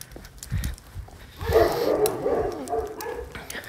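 A dog barks in short bursts on a walk outdoors, fairly close, with yips and whimpering mixed into the louder middle stretch.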